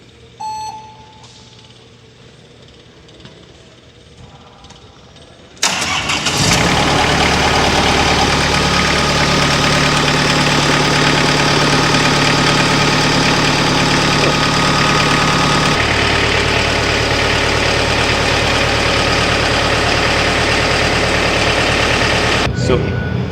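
After a quiet start, an LS MT242 tractor engine fires up and runs loud and steady at close range, its tone shifting slightly partway through.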